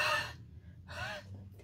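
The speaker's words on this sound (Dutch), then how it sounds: "Maar als ik een keer eroverheen hijg," Someone breathes onto a rubber stamp to moisten its drying ink, giving two close, breathy exhales with a brief pause between them.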